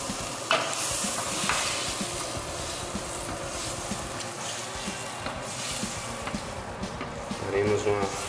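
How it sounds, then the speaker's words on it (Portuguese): Shrimp being stirred in a pan with cream cheese and coconut milk, soft scraping and a gentle sizzle running steadily, close, with a voice talking over it. "Daremos uma leve mexida para ficar homogêneo. Mistura do camarão com esses 3 ingredientes."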